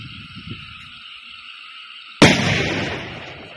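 A single loud firecracker bursts outdoors in Wayanad, set off to drive away a wild elephant: a sudden sharp bang after near silence, trailing into a broad rumbling echo that fades over a second.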